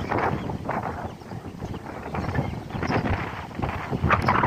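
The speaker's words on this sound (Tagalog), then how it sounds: "Ang hangin, grabe talaga yung dako." A strong gale blows around a house with a corrugated metal roof extension out back, a steady rushing roar with rumbling gusts throughout and no talk.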